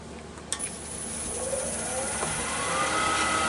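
Wood lathe spinning a small yew blank up to speed, a steady motor whir that rises gradually in pitch and grows louder over a few seconds, with a faint click near the start and no talking.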